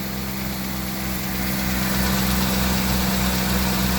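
A Ford Econoline van engine idles steadily after a repair to its EEC module, which had caused no-spark crank/no-start trouble. The close, continuous, even rumble holds level throughout with no voices.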